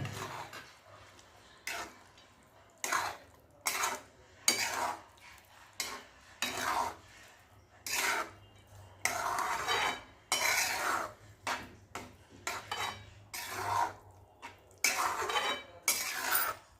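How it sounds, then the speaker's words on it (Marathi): A spoon stirs thick carrot halwa in a metal pan as cardamom powder, sliced cashews and sliced almonds are mixed in, giving repeated close scraping and clinking strokes in an irregular rhythm over a faint background hum. "वेलची पूड काजूचे काप आणि बदामाचे काप हे पण टाकून घेऊया आणि मिक्स करून घेऊया"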